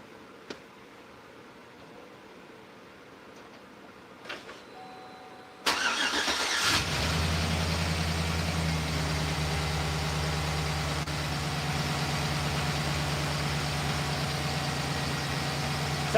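A car engine with a suspected collapsed lifter cranks and catches abruptly after a few quiet seconds, then settles into a steady, loud, even idle that continues alone to the end.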